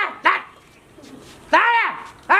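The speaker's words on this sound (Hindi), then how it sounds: "ए कुत्ता जा रहा" A dog barks several times on a village street, sharp yelping barks in short bursts with a pause in between, close and loud, with people talking nearby.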